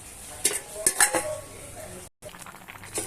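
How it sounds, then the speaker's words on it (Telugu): Metal clinks and clatters of a steel pot and lid as a lid goes onto a pot of ridge gourd and fenugreek dal, a few sharp knocks in the first second, then quieter rattling after a brief gap. "ఇప్పుడు దీన్ని మూత పెట్టుకొని ఉడకబెట్టుకుందాం"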